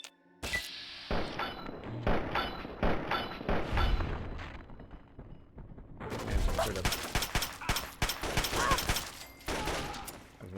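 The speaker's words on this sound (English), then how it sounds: "I think that guy might have an SMG." Submachine gun fire in the Fallout 3 video game, rapid bursts and booming impacts that come in clusters with short lulls, fairly loud, with a voice speaking at points.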